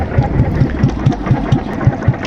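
A motorboat engine chugs steadily nearby in a fast, regular low thumping rhythm, loud and continuous.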